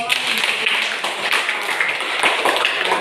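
Close, fast clapping from a small audience in a classroom teaching session, a dense patter of hand claps lasting the whole three seconds with no pause.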